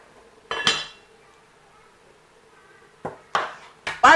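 A lid set down on a cooking pot of boiling chicken with blended carrots, giving a metallic clatter near the start, then two or three more clinks and scrapes toward the end, close and fairly loud.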